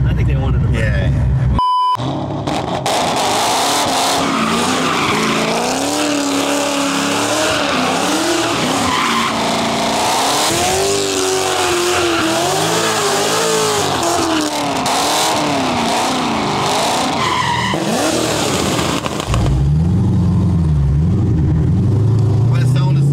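A Dodge car with a Hemi engine revs hard and skids, with a long, loud, wavering tire squeal and engine roar before it cuts to a lower rumble. Voices can be heard in the background.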